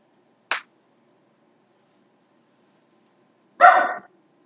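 A pet dog gives two sharp, isolated barks a few seconds apart, loud and close in an otherwise quiet indoor room.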